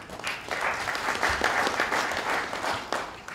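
A large audience at a forum in Bamako applauds government ministers, sustained dense clapping throughout at a steady, fairly loud level.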